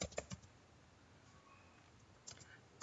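A command typed on a computer keyboard in a terminal, a short quick run of faint key clicks at the start and again near the end, quiet and close.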